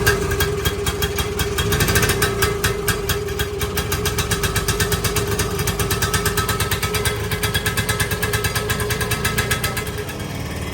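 Husqvarna two-stroke motorcycle engine running on a dyno, producing a loud, rapid, buzzing stream of firing pulses that holds steady for the whole stretch, close up with no talk.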